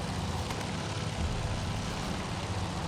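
An aircraft engine in a carrier warfare video game drones steadily as the throttle is pushed up, a continuous broad roar with no voices.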